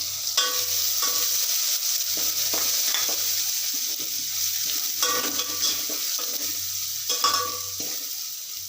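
Crushed garlic cloves frying in a pan for a sour tomato chutney, a steady close sizzle with repeated stirring scrapes and utensil taps at an even rhythm, no talking.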